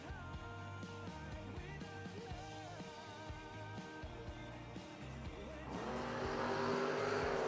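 A 1971 Plymouth Duster and a 1995 Mustang race side by side at a footbrake drag racing event, their engines holding a loud sustained roar that climbs and swells louder near the end.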